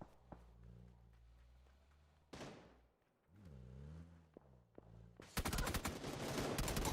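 Gunfire in PUBG during a console esports match, with a burst of shots around midway and a loud, dense stretch of rapid automatic fire at the end, over low game ambience and engine rumble.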